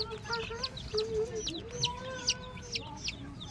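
Newly hatched chicks from an incubated batch of a dozen eggs, peeping in a steady flurry of short, high chirps close by, with a faint low rumble underneath.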